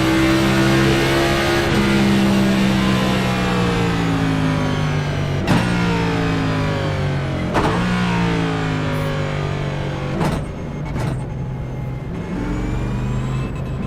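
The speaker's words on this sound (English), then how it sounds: "Race cars right past the start finish line." Race cars in the iRacing video game blast past the start/finish line, engines roaring at high revs with several sharp shift cuts and passing bursts, loud and continuous with no talking.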